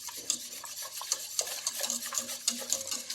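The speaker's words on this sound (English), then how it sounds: "once the butterscotch pudding is in the milk, I'm going to whisk it up so that it's all blended in." A whisk scrapes and clinks steadily around a bowl as butterscotch pudding mix is blended into milk, with a light, busy, close-up stirring texture and no talking.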